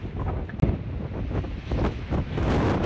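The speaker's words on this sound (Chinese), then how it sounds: "好大风哦，帽子都给我吹翻了" Strong wind buffets the microphone on a mountain trail, a loud, continuous rushing roar with gusty surges and one sharp thump near the start.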